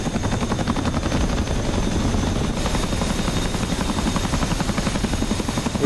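Military helicopter in the DCS flight simulator hovering close by, its rotor producing a loud, steady rapid thumping that continues unbroken throughout.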